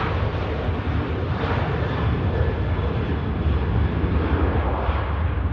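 A TUI airliner departing Manchester Airport for Antalya roars with a steady, loud, broadband jet rumble that holds constant throughout, with no speech over it.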